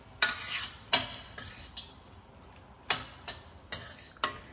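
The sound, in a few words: stirring cauliflower rice with salt in a pan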